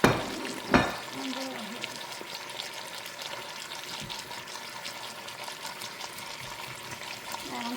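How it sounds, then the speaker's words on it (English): Onions fry in a pot for pot roast, giving a steady close sizzle with an early clatter near the start. A voice speaks briefly over the frying. "So now I'm adding my onions."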